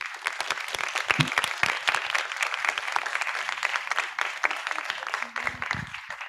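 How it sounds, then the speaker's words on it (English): Audience applause to thank organisers of a school Eratosthenes experiment event, many hands clapping together in a dense, uneven patter with some louder nearby claps, and faint voices mixed in. "let's give them a loud hand clap for their great event"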